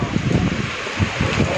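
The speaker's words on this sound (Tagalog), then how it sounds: "napakalakas ng hangin, napakalakas ng ulan" Strong typhoon wind gusting with heavy rain in Taiwan as the storm reaches Kaohsiung, a steady rough roar with buffeting low rumbles against the microphone, continuous and fairly loud.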